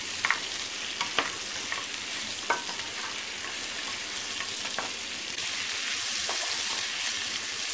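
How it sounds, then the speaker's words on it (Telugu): Mutton pieces frying in a pan for a Gongura curry, a steady close sizzle with scattered spatula clicks and scrapes, growing slightly louder toward the end. "మటన్ కూడా కొంచెం వేగే వరకు మనం 2-3 నిమిషాల వరకు వేయించుకోవాలి."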